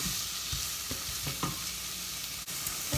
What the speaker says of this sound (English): Just wanted to sort of saute these off a little bit.